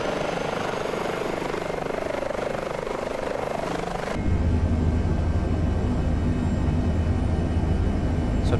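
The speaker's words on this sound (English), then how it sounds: "See that engine spooling as well." An Airbus H145 helicopter engine runs in Microsoft Flight Simulator 2020, a loud continuous turbine drone that abruptly shifts to a deeper, heavier rumble partway through.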